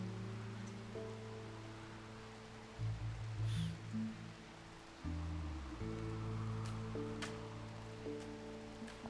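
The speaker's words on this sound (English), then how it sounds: "It is still raining." Steady rain falls in the video game RimWorld, a constant broadband hiss running under sustained tonal game music for the whole stretch, with a few brief higher clicks.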